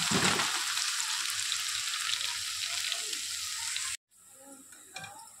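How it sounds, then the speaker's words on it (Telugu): Ginger garlic paste sizzles loudly in hot tempering oil for a mutton pickle, a steady dense hiss lasting several seconds, then a brief cut to a quieter stretch of faint crackling and light stirring. "పచ్చడిలోకి ముందుగా దంచి పెట్టుకున్న అల్లం వెల్లుల్లి పేస్ట్ వేసుకోవాలి."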